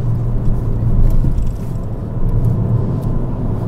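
Peugeot 208 GTi driving on a road, a steady close low engine and road rumble with a constant drone and no speech.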